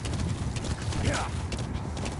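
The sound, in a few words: horse hooves while riding D-Horse in Metal Gear Solid 5 video game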